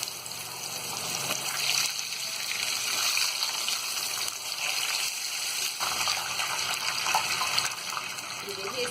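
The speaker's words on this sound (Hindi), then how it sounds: "देखिए इस तरह हम इसे हल्का गोल्डन ब्राउन होने तक फ्राई करेंगे" Nargisi koftas fry in hot oil, a steady bright sizzle and crackle that stays close and fairly loud, with a voice talking over it.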